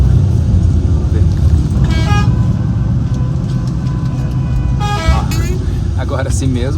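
Stalled traffic on the Amalfi Coast, with short car horn toots sounding a few times over a continuous engine rumble and road noise.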